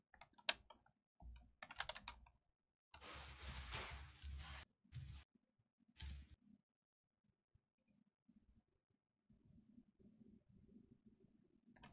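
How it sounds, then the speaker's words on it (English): Someone types on a computer keyboard during an online Dungeons & Dragons session, producing quiet bursts of clattering keystrokes separated by pauses and faint background noise, with no talking. "I hear typing."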